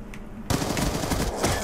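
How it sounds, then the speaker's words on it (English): Rapid automatic shotgun fire in the multiplayer shooter Black Ops 2 bursts in loudly after a brief quiet moment, with dense overlapping blasts continuing to the end. "Now we've got the automatic shotgun."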